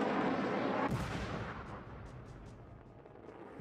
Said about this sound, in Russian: авиаудар вот сюда пошел